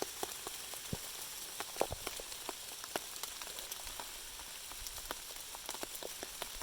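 Steady rain patters all around on a hiking trail, with sharp individual drops tapping close by against a constant hiss.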